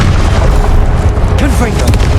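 Incendio fire spell cast in Hogwarts Legacy, a loud booming whoosh of magic fire sustained with low rumble, mixed with a shouting voice in combat.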